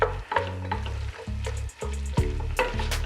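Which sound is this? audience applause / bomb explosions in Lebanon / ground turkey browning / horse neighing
ground turkey browning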